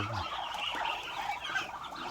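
A mother hen clucking softly among her nine chicks on a rural farm, with steady high peeping from the chicks continuing throughout at close range.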